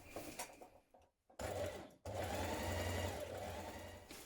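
A sewing machine stitches the curved back seam of a pair of dungaree shorts, running in a steady close whir in two bursts split by a short pause.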